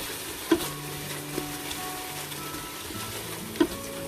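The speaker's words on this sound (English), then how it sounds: "we need to saute our onion till the time they turn pink" Onions sauté in an Instant Pot for Punjabi chole, a continuous soft sizzle with a few scraping stirs and two sharp clinks of the spoon against the pot, no talking.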